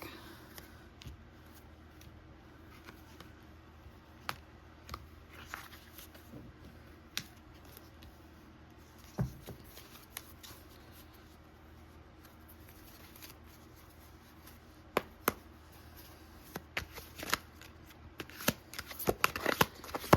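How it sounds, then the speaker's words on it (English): A tarot card deck being cut and shuffled, heard as faint, sparse card clicks and soft riffles in a mostly quiet room, with the busier flurries of shuffling coming toward the end. "Let's cut the deck."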